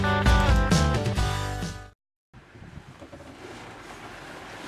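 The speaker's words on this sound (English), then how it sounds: "The wind picked up and once again we were underway" Wind at sea on a sailing boat underway off the east coast of New Zealand during a Tasman crossing. A loud, broadband rush of wind and water drops out briefly, then returns as a steadier, softer hiss of wind and waves.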